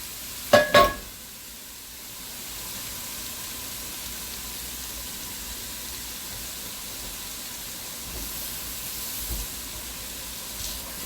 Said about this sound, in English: I'm going to add in my meat